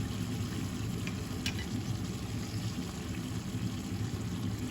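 Onions and tomato paste fry in a pot for a Turkish potato and chicken stew, a dense, steady sizzle with soft stirring scrapes running close and loud the whole time.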